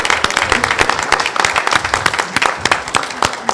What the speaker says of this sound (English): I want to give her a special round of applause.